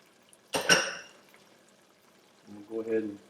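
Water and cornstarch poured together into a pan for a vegetarian jajangmyeon sauce, one short splashing pour near the mic followed by a softer clink or splash a couple of seconds later.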